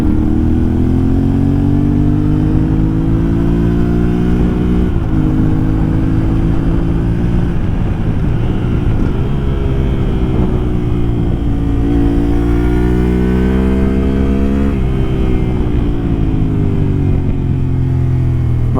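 A 2024 Yamaha Ténéré 700 A2 motorcycle being ridden, its engine droning loud and close with rising and falling pitch through gear changes, wind rumble underneath.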